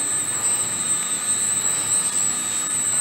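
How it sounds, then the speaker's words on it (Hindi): Diesel fire pump engine running steadily in a fire-fighting pump room, a continuous loud mechanical drone with a persistent high whine, alone with no talk. "और ये डीजल पंप है, इसकी इंजन का ये पैनल है"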